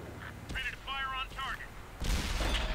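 A tank gun shot in World of Tanks, a Charioteer match: a loud broadband blast near the end follows tonal in-game alert chirps and background rumble.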